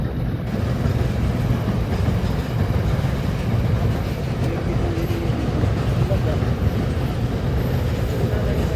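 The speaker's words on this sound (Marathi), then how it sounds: "अरे ही माल वाहतुकीची रेल्वे" A long freight train rumbles past close by, a dense continuous roar of wheels and wagons with faint clatter throughout.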